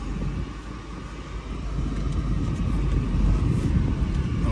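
A Mercedes SL500 driving on freshly installed coilover suspension, a steady low road and engine rumble inside the car that gradually swells louder, with no talk.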